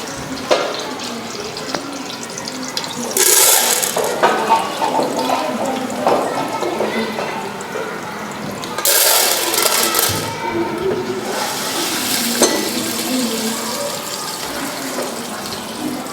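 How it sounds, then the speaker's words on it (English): Hot cooking oil poured into a pot for popcorn, heard as a steady liquid stream with sizzling and clattering in two louder bursts, close by and continuous throughout with no speech. "The oil is hot, so we are going to put our oil inside."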